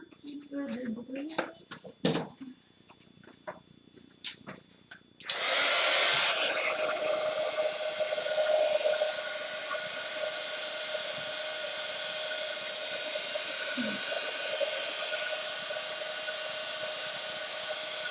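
Heat gun warming embossing powder on a handmade Christmas card, blowing as a steady, loud whooshing hiss that starts abruptly after a few seconds of quiet handling and speech and then continues unbroken.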